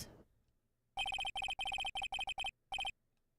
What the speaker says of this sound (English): Why do you hear Discord notifications?